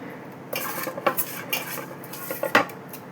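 Metal utensils scrape and clink against a plate while fish curry is mixed into rice: several sharp, irregular clacks and scrapes close up over a quiet background.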